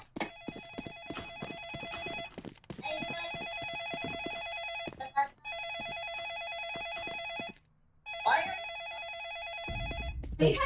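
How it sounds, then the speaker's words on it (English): Telephone ringing inside a Roblox bakery game, a bright electronic double-trill ring repeating in four bursts separated by short gaps, fairly close, with brief player voices in the gaps. "Someone answer the phone."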